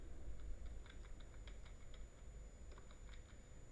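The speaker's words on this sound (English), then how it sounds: "What am I typing?" Soft, faint keystrokes tap on a computer keyboard in short irregular bursts, with a brief pause in the middle before typing resumes.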